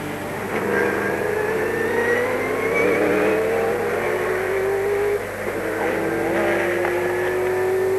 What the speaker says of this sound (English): Second car on the track is this man in the Sauber Mercedes,